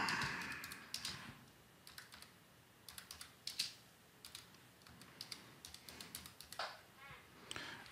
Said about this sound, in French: Le bloc-notes s'ouvre et je vais taper « Coordonnées ».